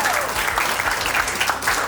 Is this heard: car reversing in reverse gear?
no